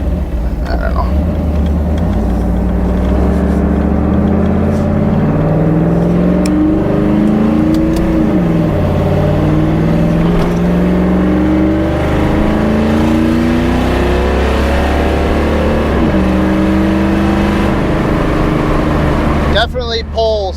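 A third-generation Camaro fitted with a Hughes 3000 stall torque converter accelerates hard, its engine note rising and falling steadily and loudly through the run, with a voice heard over the noise.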